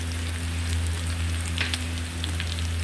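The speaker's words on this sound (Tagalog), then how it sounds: "Ginisa-gisa natin siya para malambot po yung ating beef. Ginisa ko na po siya sa bawang." Beef sautéing with garlic in hot cooking oil, giving a steady close sizzle and crackle throughout with a faint low hum underneath and no voices.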